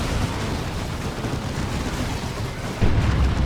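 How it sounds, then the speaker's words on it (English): Wraith Cannons fire in a Dawn of War 2 3v3 match, a dense, continuous rumble of heavy booms and bursts that grows louder near the end, with no talking. "Some friendly fire though from the Wraith Cannons."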